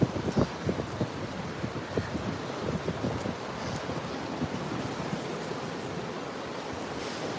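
Sea waves wash steadily onto a beach under gusting wind that buffets the microphone, a continuous broad rushing roar with no voices, recorded on a shoreline walk to collect sea glass.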